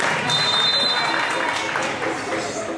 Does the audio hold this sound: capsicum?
no